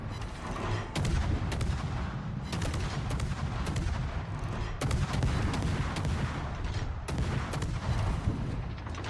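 Naval guns fire repeatedly in World of Warships from a Marceau tier 10 French destroyer on the Loop map, sharp booming salvos at irregular intervals over a continuous low rumble.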